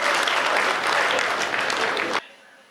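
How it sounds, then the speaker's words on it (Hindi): Loud, dense applause from the audience at a Hindi comic poetry gathering, a continuous roar of many hands that cuts off abruptly near the end, leaving quiet room tone. "एक बार जोरदार तालियां बजा दीजिए।"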